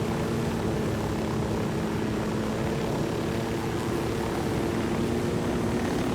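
An airplane flies in Ghost Recon Wildlands, its propeller engine droning in a loud, continuous, even roar with no talk over it.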